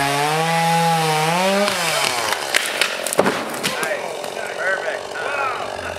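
A chainsaw engine revs up and down with a wavering pitch, then bites into a tree in a backyard with a rough, loud buzzing grind.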